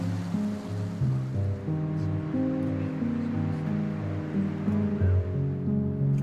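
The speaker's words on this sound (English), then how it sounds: "The forest thins and the stream turns white and placid" A stream flows white and placid through a meadow where a forest thins along the Tonquin Valley Trail in Alberta, a steady, close rushing wash with low tonal hums layered over it throughout.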